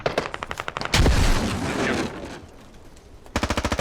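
Automatic rifle fire in the military shooter game Squad, a rapid close burst, then a loud blast with a lingering rumble, a quieter pause, and another fast burst at the end.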